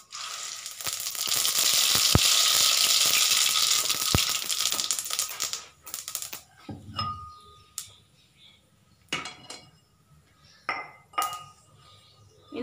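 Mustard seeds dropped into hot oil for bathua saag, a loud hissing sizzle that swells for several seconds and then fades into scattered clinks of utensils and pan knocks.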